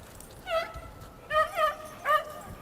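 Dogs hunting rats in piles of garbage at night, letting out three short, close whimpering yips spaced about a second apart over a low background hum.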